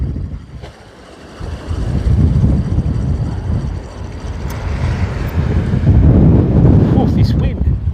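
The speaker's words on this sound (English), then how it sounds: "Whew, this wind." Strong wind gusting across a microphone outdoors on a fishing trip, heavy low rumbling buffets that swell and ease, with faint voices in the background.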